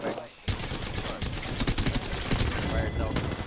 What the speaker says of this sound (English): I'm getting shot by this guy up top